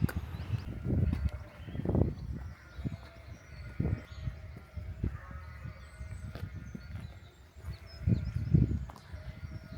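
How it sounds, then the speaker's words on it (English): Several sheep bleat repeatedly at moderate distance around feeding time, their calls overlapping irregularly over a quiet outdoor background. "Sounds like feeding time for the sheep,"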